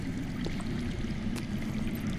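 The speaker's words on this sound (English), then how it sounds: "I hear water. From underground." Steady low rushing of water flowing somewhere below ground in a Game of Thrones video game, a continuous broadband wash heard alone with no voices.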